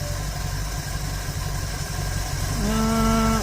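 A Dodge engine fitted with a Stromberg BXVES-3 carburetor idles low and steady, a close, even rumble whose pitch lifts slightly near the end.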